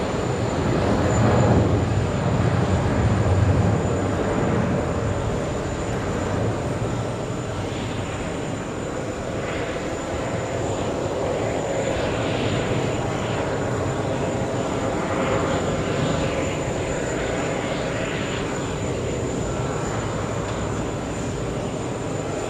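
A Boeing 777 taxis at JFK airport, its jet engines giving a sustained, broad roar that stays fairly steady, loudest early on and heard alone without talk.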